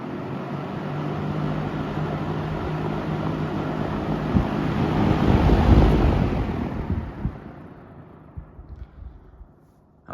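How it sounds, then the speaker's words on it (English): A vintage 1971 Lakewood S-23 fan running on high, its motor sounding dry, makes a steady broadband rush of air that swells midway and then tapers off toward the end, with no speech. "Motor's making a weird sound. Like it's dry almost."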